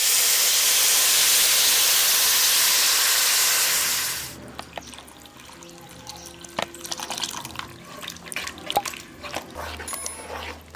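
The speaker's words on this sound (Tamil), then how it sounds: "இப்போ எடுத்து வச்சிருக்க புளிக்கரைசலை சேர்த்துக்கலாம்." Tamarind extract is poured into a simmering drumstick vathal kuzhambu, a loud steady sizzling hiss for about four seconds that cuts off into quiet bubbling and faint kitchen clinks.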